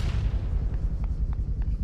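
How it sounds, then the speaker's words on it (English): Rocket launched and bursting in the military shooter ArmA 3, heard as a heavy, continuous low rumble with a faint crackle on top, loud and close for under two seconds, with no voices. "Rocket."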